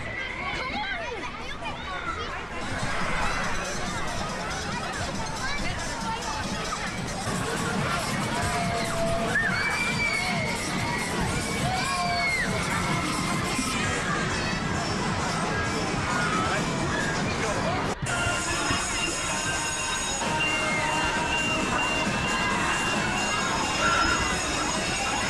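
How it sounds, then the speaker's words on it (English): A big crowd at an outdoor park pageant in Kirkcaldy, with children shouting and cheering amid a dense, steady babble of voices that runs throughout at close range. "attracting big crowds to the park"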